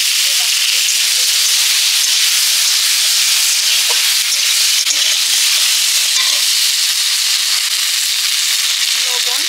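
Vegetables fry in a hot pan with turmeric and panch phoron five-spice, giving a steady, loud, continuous sizzle and hiss with faint stirring scrapes underneath.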